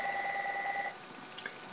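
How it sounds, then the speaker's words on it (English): A telephone rings indoors, a steady electronic trill holding for just under a second before cutting off, then quiet room tone with faint small sounds. "And ignore that phone, because I don't care about that."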